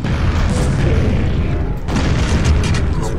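An enemy blowing up in Quake 25th Anniversary Edition, a dense rumbling blast that runs for several seconds with a brief dip and a second surge, loud and close, with no talking.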